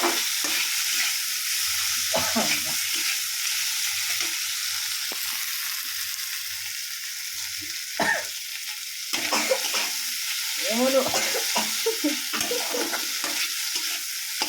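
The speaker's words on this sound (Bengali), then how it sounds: "শুকনো লঙ্কা তেলে দিয়েছি" Dried red chilies frying in oil in a home kitchen while fish-head spinach curry is prepared, an even hiss with intermittent spatula scrapes and clatters, steady and close throughout.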